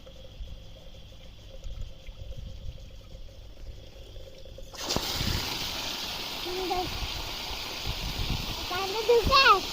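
Water from a tap starts abruptly partway through and then runs in a steady rushing stream outdoors on a farm, preceded by quiet background, with a voice and other speech around it.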